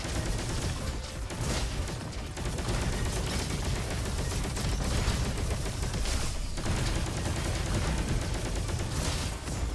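Cosmo gun firing in Roboquest, a dense, continuous barrage of loud gunfire and explosive booms running throughout with no pauses.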